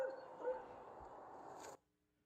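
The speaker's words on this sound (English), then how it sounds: "maybe you hear that subtle bark" A single dog barks briefly as a subtle sound effect, a short yelp over a low steady hum that cuts off abruptly.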